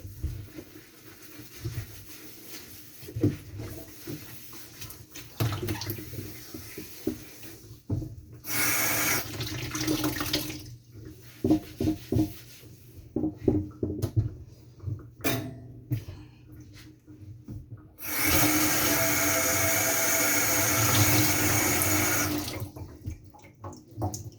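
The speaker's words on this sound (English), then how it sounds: "the first thing I'm going to do is wash my watermelon" A watermelon is washed under a running kitchen sink tap, with water rushing and splashing in bursts broken by handling and rubbing, ending in a long steady stream.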